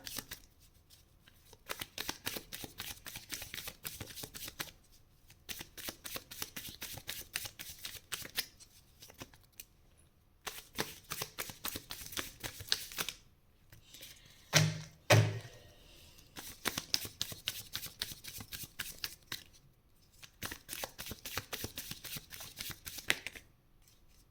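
Tarot cards are shuffled in repeated bursts of quick riffling flutters separated by short pauses, close up and alone with no talking, with a couple of louder thumps in the middle as the deck is squared.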